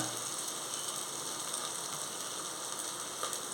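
Ginger garlic paste sautéing in a pan for biryani, giving a steady, even sizzle and crackle of frying that continues throughout at close range.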